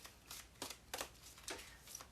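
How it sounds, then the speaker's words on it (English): Tarot cards being shuffled in several quick riffling bursts, crisp and close, separated by short pauses, with no talking. "I'm actually going to shuffle this again."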